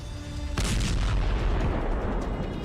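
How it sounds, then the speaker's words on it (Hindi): A sudden heavy cruise missile explosion bursts in during a military exercise, followed by a loud sustained rumbling roar that slowly fades. "फिर होता है बड़ा धमाका"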